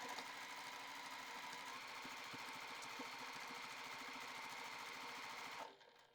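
A sewing machine stitches a jelly roll quilt seam across a 9-patch checkerboard block with a steady, fast mechanical whir. The whir runs unbroken for several seconds, then stops abruptly.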